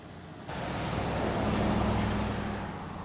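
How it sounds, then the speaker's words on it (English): A truck passing on a road, a low rumbling roar that swells suddenly, holds loud and broad for a couple of seconds, then begins to fade, heard close by outdoors. "Wait for the truck to pass"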